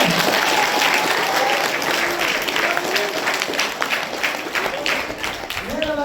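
A room of schoolchildren applauds at a classroom talk, a loud crowd of rapid, overlapping claps that carries on steadily, with a few voices faintly under it.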